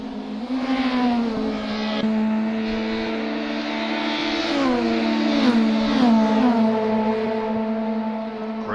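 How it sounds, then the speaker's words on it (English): Nissan Primera race cars from a racing video game, lapping at Automotodrom Grobnik, with engine notes rising and falling through gear changes as several cars drone and rev loudly and continuously, without voices. "Great sounding cars here."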